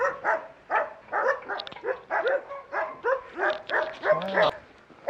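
Several Dalmatians at an animal shelter in Marrakech bark in repeated short bursts, loud and close, with some yips and whimpers mixed into the chorus.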